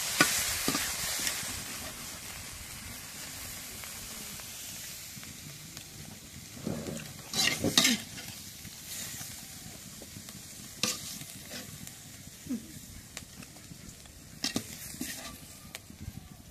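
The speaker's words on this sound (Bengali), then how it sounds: "এখন শাক ভাজি হয়ে গেছে, এখন নামাই নেই।" Leafy greens being stir-fried in a pan, a moderate sizzle with intermittent louder scraping stirs and clatter, close up with no talk.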